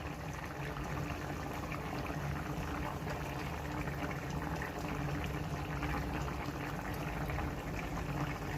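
Coriander leaves and curry leaves hitting well-heated boiling oil in a pan while cooking mushroom masala, giving a steady, dense sizzle and crackle that holds at an even level throughout, with no talking.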